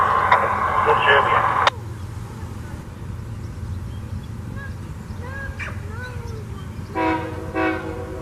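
A heritage-painted locomotive pair leading a freight train arrives at a rail yard's east end, with a steady low rumble of the passing train, a loud opening burst, and short horn-like tonal blasts near the end.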